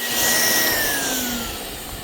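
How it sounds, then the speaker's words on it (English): Phalanx 5-stage turbine paint blower running, a loud close whine that holds steady and then sinks slightly in pitch as the motor spins, with a broad airy rush behind it. "you can turn it on. That's why I call it a blower. But you can also see how well it moves air."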